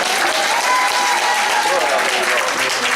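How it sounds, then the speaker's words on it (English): A church congregation claps hands in praise, a thick wash of applause with cheering or shouted voices mixed in, loud and continuous throughout. "give our God, our Jesus, a hand clap of praise and praise"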